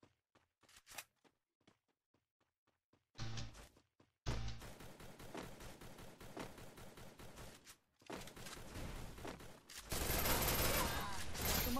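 Rapid bursts of automatic gunfire in the Free Fire battle-royale game, sharp repeated shots early, then dense sustained firing and loud fusillades building toward the end, with brief gaps between volleys.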